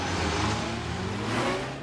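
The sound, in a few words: Citroën CX 2200 braking from 100 km/h to standstill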